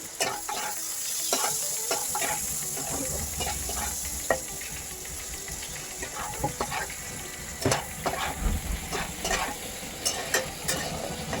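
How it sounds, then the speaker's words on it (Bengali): Fish frying and being stirred in a pan for a bitter gourd dish, a steady sizzle with scraping stir strokes and clatter throughout, close and fairly loud, no talk. "আমি মাছটা ভেজে নিচ্ছি"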